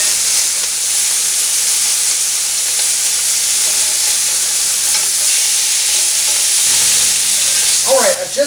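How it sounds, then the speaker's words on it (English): Beef short ribs brown in a hot pan with a loud, steady, close sizzle and frying hiss that carries on throughout, with a brief stir or clatter near the end and no talking. "You'll want to brown all 6 sides of the beef before we continue with this recipe."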